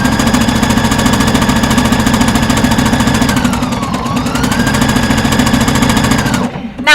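A sewing machine stitching the shoulder seam of a dress at a very short stitch length, running loud and close in a fast continuous mechanical rattle that eases briefly mid-run before stopping at the end.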